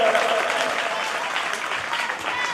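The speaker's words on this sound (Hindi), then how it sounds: "बार जोरदार ताली से बच्चों का स्वागत।" Loud, dense applause from a crowd at a school ceremony for unveiling a statue of Shaheed Bhagat Singh, welcoming the children with continuous vigorous clapping throughout, close and full.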